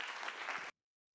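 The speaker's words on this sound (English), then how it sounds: "So if we want to give the president a round of applause and thank him for coming." Applause for the president at a student senate meeting, a short steady burst of many hands clapping that cuts off abruptly after under a second.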